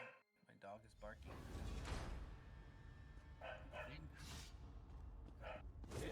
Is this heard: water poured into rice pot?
no